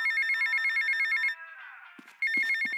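A mobile phone rings in the video game GTA Vice City, a steady electronic trill heard near and clear, cutting off briefly with a few soft clicks before the ringing resumes.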